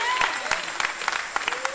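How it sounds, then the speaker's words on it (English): Church congregation clapping in praise for a choir at a morning service, with scattered, uneven claps under a sustained voice or tone. "a hand clap of praise for them"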